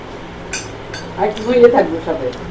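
Dishes and utensils clink and knock together a few times, soft and close, as if being handled during washing.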